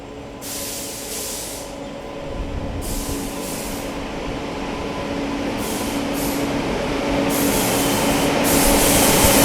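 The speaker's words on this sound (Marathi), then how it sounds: "बेंगलोर नांदेड एक्सप्रेस लातूर रोडच्या प्लॅटफॉर्म क्रमांक 1 वर आगमन करत आहे." Bangalore–Nanded Express rolling into platform 1 at Latur Road station, a steady rumbling rail roar with hissing bursts that slowly grows louder and nearer across the whole stretch.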